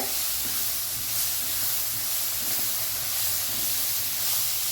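Roughly chopped tomato goes into a hot pan and sizzles with a steady, loud hiss that carries on evenly throughout, with no voice over it.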